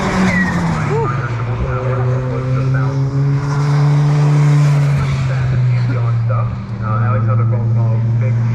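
A Nissan GTR race car in time attack qualifying at Anglesey, engine howling past with a rising then falling drone and tire squeal, while a commentator talks over it.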